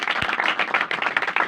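Congregation clapping together during a church worship service, a dense, steady patter of many hands close by with no voices over it.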